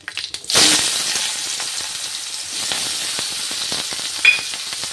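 Onions drop into hot oil in a pan with black cumin seeds, bursting into a loud hiss that settles into a steady, crackling sizzle with a few sharp pops.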